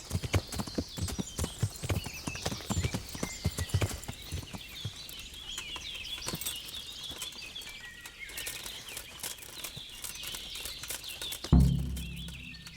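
Horse hooves clip-clop in the video game Kingdom Come: Deliverance, a steady close rhythmic trot of hoofbeats with faint birds, easing off toward the end before a brief thud.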